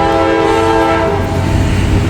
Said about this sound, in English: we got a train coming, folks